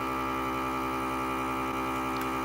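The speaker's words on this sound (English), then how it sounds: "you just simply hit vacuum seal and watch it shrink up" A vacuum sealer runs steadily while it seals a bag of freshly harvested, dried hops, giving a loud, even motor hum with no break or voices.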